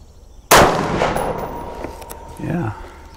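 A single sharp, loud rifle shot cracks out from an Armalite AR-180, followed by a decaying echo and a short voice near the end.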